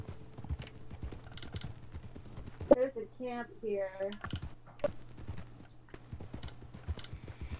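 Horse hooves clip-clopping at a steady gait in the video game Red Dead Redemption 2, a soft rhythmic patter running under a person talking close up.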